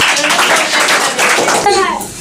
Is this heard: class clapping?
yes